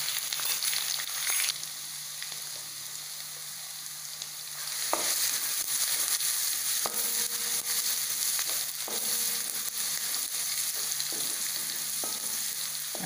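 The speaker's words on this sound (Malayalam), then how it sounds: "അപ്പോൾ ഇനി നമുക്ക് ഇതിലേക്ക് 1 ടേബിൾ സ്പൂൺ വെളുത്തുള്ളി, ഇഞ്ചി, പച്ചമുളക് ചതച്ചത് ഇടാം." Crushed garlic, ginger and green chili sizzle steadily in sunflower oil for a vegetable biryani, with occasional stirring scrapes and clinks of a spoon against the pan, close and continuous with no talking.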